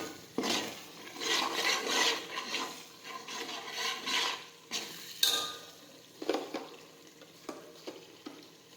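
Spoon stirring spices into a thick pav bhaji vegetable mash in a pan, a steady scraping and squelching rhythm with a few sharper knocks against the pan near the end, close and clear with no talk.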